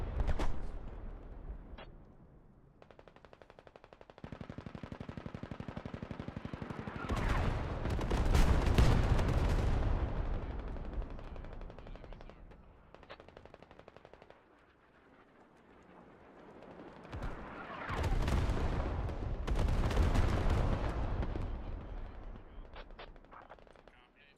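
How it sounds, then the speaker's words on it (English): Artillery and rocket fire in the video game Squad, with two loud waves of dense, rapid explosions and gunfire that swell and fade, separated by quieter rumbling stretches. "Seeing Artie coming in, we're seeing rockets come in."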